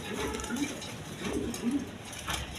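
A big-bodied male tiger-coloured Danish pigeon coos in a few low, rounded phrases close by over steady background noise.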